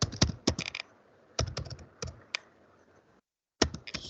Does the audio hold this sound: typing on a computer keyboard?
yes